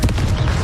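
A Confringo fire spell from the Hogwarts Legacy video game bursts with a loud, booming explosive blast, followed by rumbling low-end crackle over a short span.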